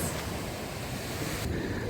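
Sea waves wash onto a stony beach in Odesa, a steady close rush of surf mixed with wind buffeting the microphone, with no talk.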